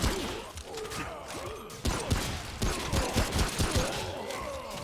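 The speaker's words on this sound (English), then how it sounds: "Crossbows don't fire that fast." Rapid crossbow fire in Remnant: From the Ashes comes as a dense volley of punchy shots and thuds, layered with crashes and mechanical clatter. The shots are loud and close, rattling off in quick irregular bursts.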